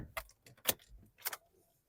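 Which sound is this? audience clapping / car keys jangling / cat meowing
car keys jangling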